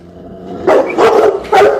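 A dog named Simba barks three times in quick succession, loud and close, with short gaps of near silence between the sharp barks.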